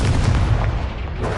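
A Confringo explosion spell goes off in a Harry Potter video game as a dense, heavy rumbling boom with strong low end, loud and sustained across a short burst, with no speech over it.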